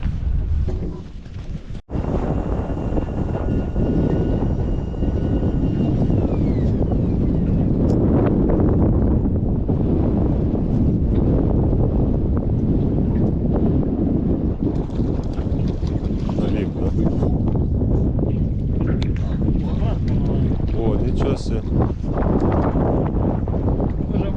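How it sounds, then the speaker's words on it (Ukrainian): Strong wind buffets the microphone in a constant, roaring rumble while sea fishing in Norway, with water sloshing and a voice faintly mixed in. "Коротше, вітер, треба захист брати від вітру."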